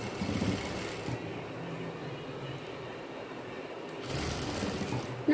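Sewing machine stitching a V-shaped seam on silk fabric for a girl's pavadai skirt, a steady close whirring run that stops briefly midway before starting again, with no talk.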